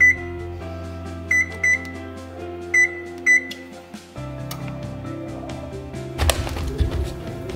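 A kitchen oven set to preheat at 425 gives four short electronic beeps in quick pairs over faint background music, followed by a clattering noise near the end.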